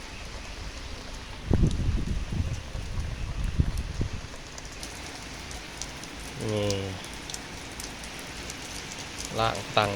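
Heavy rain falling on a flooded backyard, a steady hiss of drops with scattered louder splashes and brief spoken words in Thai.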